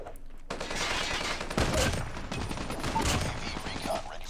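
Annihilator gun firing in Call of Duty Mobile on the Shipment map, a dense continuous burst of rapid automatic shots, loud and close, lasting several seconds.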